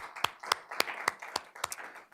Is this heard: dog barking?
no